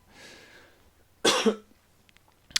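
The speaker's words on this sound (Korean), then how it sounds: "자꾸 기침이 나오네요." One sharp, close cough bursts out after a soft breathy exhale, followed by quiet and a faint click at the end.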